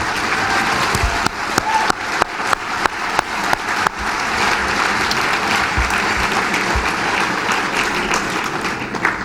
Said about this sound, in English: Come on, round of applause for them all.